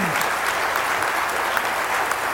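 Dense, even applause fills the room at a Las Vegas Chamber of Commerce mayoral business debate, a loud, continuous crowd clapping with no letup.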